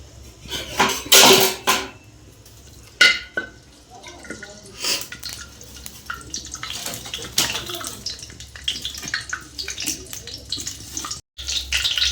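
Bay leaves hit roughly 150 grams of hot oil for Bengali gota seddho, giving bursts of close, crackling sizzle mixed with clinks and clatter of utensils, settling into a steady fizz.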